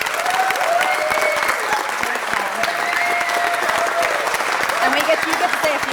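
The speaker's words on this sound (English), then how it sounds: "So let's give Bob a great big round of applause." Audience applause fills a city council meeting, a steady dense wash of clapping throughout with a few voices calling out over it.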